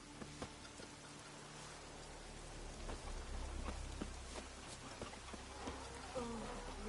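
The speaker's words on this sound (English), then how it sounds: "Oh, raining again." Steady rain falls across a scene in The Witcher 3, a continuous wash of drops with a low rumble of distant thunder underneath and occasional sharper patters, heard alone without talk.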